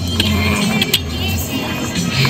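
Passengers climb into a car beside a floating restaurant in Niugan, Malabon, with rustling movement, a couple of sharp clicks and thumps against a steady low engine and street rumble.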